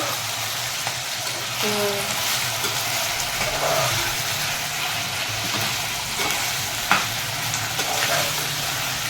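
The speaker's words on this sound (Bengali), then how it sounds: "এদিকে তেলের মধ্যে এখন পেঁয়াজ ভাজা হচ্ছে।" Onions and large salt-and-turmeric-coated prawns frying in oil for prawn pulao, with a loud continuous sizzle, a few stirring clatters and a sharp clink near the end.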